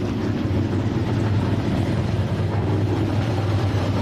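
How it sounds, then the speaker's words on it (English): Race car engines rumble steadily at the start of an F4 and FR Americas event at Virginia International Raceway, a dense, continuous low roar that holds at even loudness with no voices over it. "the engines are running"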